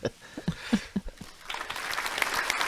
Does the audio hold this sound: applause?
yes